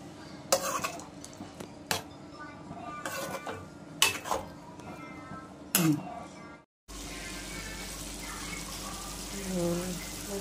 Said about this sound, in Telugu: ఇప్పుడు చింతపండు పులుసు పోతానమ్మా